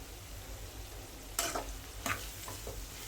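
Vegetables and pepper powder fry in hot oil for veg fried rice while a spoon stirs them: a low steady sizzle with two sharper scraping clatters against the pan.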